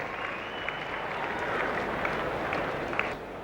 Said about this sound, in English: A cheer from the crowd here